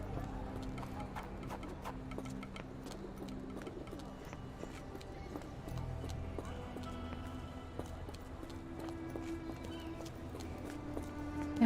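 A horse clip-clops at a steady trot-like rhythm in a video game, its hooves sounding continuously over soft background music and ambience.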